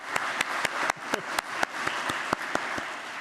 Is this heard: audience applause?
yes